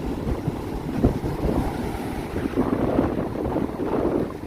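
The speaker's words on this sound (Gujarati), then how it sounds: "ધીમે ધીમે ભાઈ પાણી એકદમ નજીક આવી રહ્યું છે" Sea waves wash steadily toward the shore on a morning beach, a continuous broad rumble mixed with gusty wind noise buffeting the microphone, with no talking.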